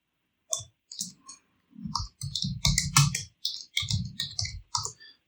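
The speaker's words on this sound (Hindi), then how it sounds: "मैं वर्चुअल अकेडमी टाइप कर लिया" Typing on a computer keyboard: irregular bursts of sharp clicking keystrokes, close and crisp, with short pauses between clusters and no voices.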